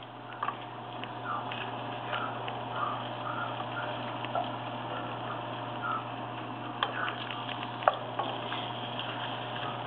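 Beef pieces frying in a pan for caldereta give a steady, moderately quiet sizzle with scattered small ticks and pops, close by and continuous without talk.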